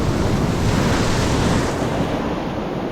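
A strong ocean wave hits a fishing boat at sea, a loud broadband rushing wash with wind noise buffeting the microphone, sustained for a few seconds then easing slightly.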